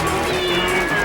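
A cartoon cat lets out a drawn-out, tonal meow in a French-dubbed animated series, sounding over a busy backdrop of music and effects.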